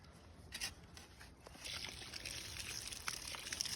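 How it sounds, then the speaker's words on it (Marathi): Water poured onto a newly planted mandarin sapling in freshly pressed soil, a faint, close trickle and splash that grows a little steadier partway through. "माती छान प्रेस करून झाल्यानंतर रोपाला पाणी देण्यात आलं"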